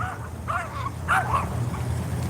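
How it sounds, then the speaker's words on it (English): Dogs barking and yipping some distance off beside an urban pond, a few short high calls over a steady low background hum, with no talk. "Got some dogs barking."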